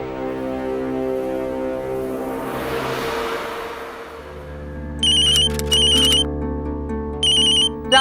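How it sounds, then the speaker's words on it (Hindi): A mobile phone ringtone sounds indoors at night, bursts of bright electronic tones starting after a soft swelling musical bed, repeating in short clear pulses with no speech. "तुम्हारा फोन आ रहा है"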